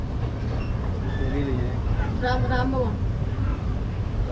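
Inside a moving passenger train, a low steady rumble carries on throughout while people talk in the carriage nearby.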